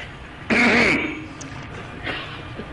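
A voice imitates a muezzin clearing his throat in a minaret, one loud, rough rasping throat clear up close, followed by a fainter breathy sound.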